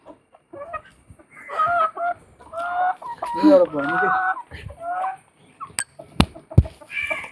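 Domestic hens clucking close by on a home farm, with bursts of throaty clucks and calls, mixed with some talking and a couple of sharp knocks near the end.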